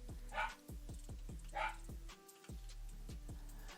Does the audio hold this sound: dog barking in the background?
yes